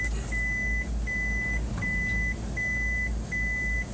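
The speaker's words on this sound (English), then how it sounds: "What's the beeping? Right now? Yeah. That's your VHF." A VHF marine radio on a charter yacht's 12-volt panel gives a series of five evenly spaced electronic beeps, each about half a second long, over a steady low hum.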